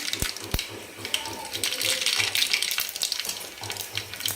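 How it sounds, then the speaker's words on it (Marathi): Mustard seeds sputter and crackle in hot oil in a pan for a brinjal curry, a close, busy frying hiss with a few sharp pops near the start. "तेल गरम करायला ठेवलेलं आहे दोन चमचे टाकले मोहरी टाकून घेते"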